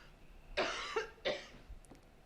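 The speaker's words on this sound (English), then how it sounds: "You could just let her cough." A woman coughs in a scene from The Sopranos: three harsh, close coughs in quick succession, then a quieter trailing hack.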